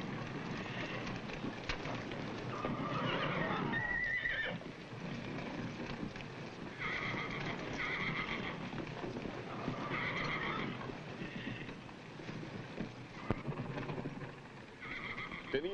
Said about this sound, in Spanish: Tenían razón, son unos caballos magníficos